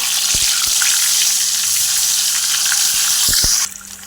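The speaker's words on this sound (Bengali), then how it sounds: "এই দেখো আলুগুলো ভেজে নিচ্ছি" Potatoes fry in hot oil for a mutton dish, a loud close sizzling hiss with a few sharp spatula taps, dropping suddenly quieter near the end.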